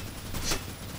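A minigun fires in the video game Unreal Tournament, a dense, continuous stream of rapid shots blending into a loud, noisy roar for about a second.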